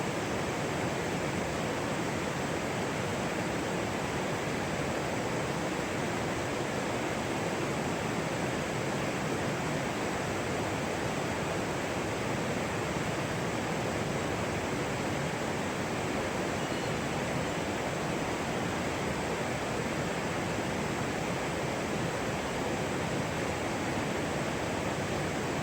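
River at a plantation in Jember, Indonesia, flowing with a steady, broad rushing hiss that stays constant and fairly close throughout, with no voices.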